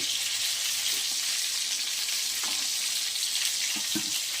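Chicken tikia patties frying in hot oil, a loud, dense, steady sizzle close up with a few soft stirring clicks and no voices.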